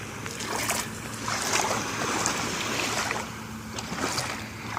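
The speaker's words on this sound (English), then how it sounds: "Gotta withstand some of the waves." Ocean waves wash around shin-deep water at Sand Key beach in Florida, a continuous close rushing and churning surf with wind, no voices.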